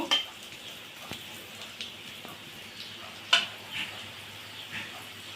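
Fried potatoes being stirred into a mixed-fish curry in a pan, with scattered scraping and clinking clicks of a spoon against metal over a low, steady sizzle, fairly faint and close, no voices.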